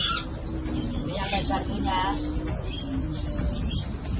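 Caged birds at a bird seller's shop, where protected species such as green leafbirds and yellow-crested cockatoos are kept, give chirps and soft cooing calls close by, heard beneath someone talking.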